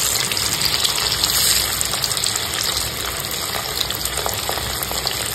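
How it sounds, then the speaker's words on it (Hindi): Boiled eggs deep-frying in hot oil until golden brown give a loud, steady bubbling hiss close by, with a fizzing sputter that runs on without a pause and no one talking. "और इसे भी हम लोग थोड़ा गोल्डन ब्राउन होने तक फ्राई करेंगे।"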